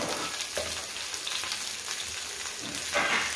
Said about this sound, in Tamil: இப்போ நம்ம கட் பண்ணி வச்சுருந்த வெண்டைங்காய் அதில் ஆட் பண்ணிடலாம். கொஞ்சம் நல்லா வதங்கட்டும்